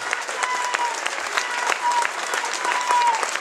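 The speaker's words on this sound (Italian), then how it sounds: "fate un applauso ai sindaci della Lega che ci fanno un mazzo." Crowd applause for the League's mayors at a provincial Lega Nord party festival in Lonigo, dense continuous clapping from a large outdoor audience, with faint shouts and voices mixed in.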